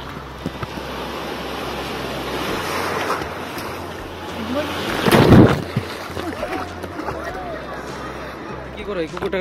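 Rough sea waves roll in at Saint Martin's Island, a continuous roaring surf with a louder crashing splash midway, while voices are heard faintly under the noise.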